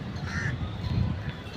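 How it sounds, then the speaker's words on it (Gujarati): Crows caw near a river, a couple of harsh calls rising over a low background of outdoor murmur, moderately close and brief. "અહીંયા આપણે જો કાગડા છે, જો એક ઉપર કાગડો બેઠો."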